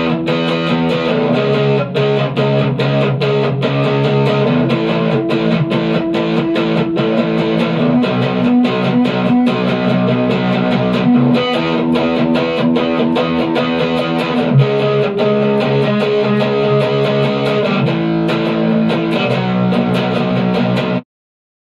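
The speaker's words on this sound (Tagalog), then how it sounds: "Tapos combine natin with distortion para maging heavy yung tunog." An electric guitar run through a distortion effect plays heavy, sustained chords and riffs, loud and continuous for about twenty seconds before stopping abruptly.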